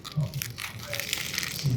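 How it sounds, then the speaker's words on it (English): Someone bites into a shrimp po' boy on crunchy French bread in New Orleans, giving short, close crisp crunches and crackles, with some faint low voice sounds mixed in. "Nice crunchy French bread here."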